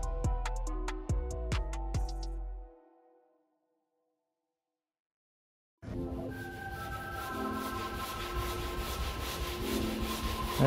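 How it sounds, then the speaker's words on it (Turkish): Sandpaper rubs over the painted and filled body panel of a BMW E39 530d during restoration, a steady close abrasive scraping after a silent pause that follows fading musical tones. "şimdi zımparalama işleme devam ediyoruz"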